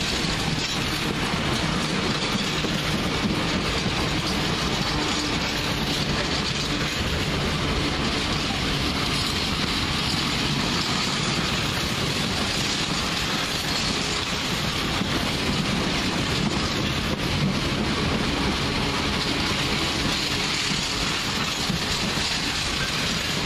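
A heavy steel freight train hauled by locomotive 66194 rumbling past close by at Perry Barr, a continuous loud roar with rhythmic clatter of wagons on the rails throughout.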